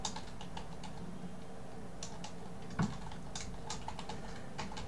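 Keys tapped on a computer keyboard while coding a JavaFX list view, with light irregular clicks scattered through a steady low room hum and one brief louder knock near the middle.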